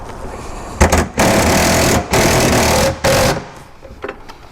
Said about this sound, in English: we'll take an extension, reach down and go ahead and start tightening these up